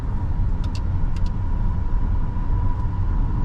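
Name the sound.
2024 Kia Telluride EX accelerating while driving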